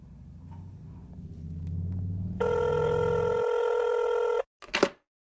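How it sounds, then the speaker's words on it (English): Outgoing phone call: soft handling sounds and a low rumble, then a loud, steady electronic ring tone that holds for about two seconds before cutting off, followed by a brief scratchy noise, with no talk. "Thomas, I'm going to call you real quick."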